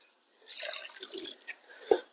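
Water is poured into a potted plant and drains straight out through the hole at the bottom: a short, close, fairly quiet splashing pour, then a single distinct drip.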